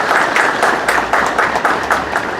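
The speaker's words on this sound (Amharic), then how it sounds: "አጨብጭቡላቸው" A crowd at an Ethiopian community gift-giving event for Easter and Ramadan claps steadily, a dense patter of many hands at fairly close range, sustained throughout without voices.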